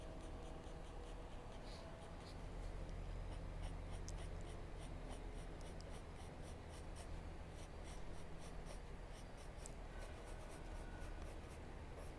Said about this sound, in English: I have to keep turning the pencil so I get a sharp edge.